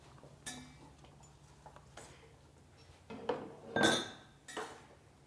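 A utensil stirs sauce in a pan before pasta goes in, giving scattered clinks and scrapes against the metal, with a few louder knocks near the end over a quiet background.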